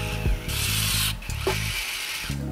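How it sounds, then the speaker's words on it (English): A small electric screwdriver whirs in short bursts while tightening screws on a FlyWoo Firefly Nano Baby micro drone, close and loud with brief pauses between pulses. "Now we should tighten those screws and they enter this bolt right here."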